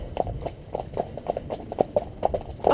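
Horses' hooves clip-clop in a steady walking rhythm on a road during a hack out, moderately close and fairly quiet, with no other prominent sounds.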